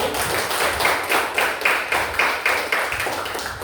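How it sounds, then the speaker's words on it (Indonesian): Classroom of students clapping for a presenting group, a steady burst of many hands applauding together at close range, rhythmic and sustained throughout with no talking. "tepuk tangan dulu untuk kelompok 1"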